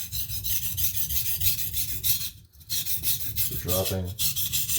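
A knife is stroked across a coarse King 300 whetstone in a run of rhythmic rasping passes, close and fairly loud, with a short pause midway and a brief spoken phrase near the end.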